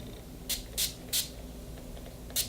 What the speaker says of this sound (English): Now I'm gonna spray my face one more time with the oil control setting spray